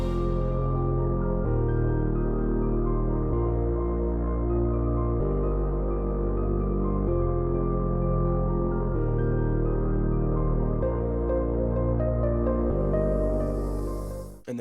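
A progressive house drop where a warm synth pad and a piano plays chords and a melody in a high octave over deep sustained bass notes. The chords change every couple of seconds and it ends in a brief noisy swell.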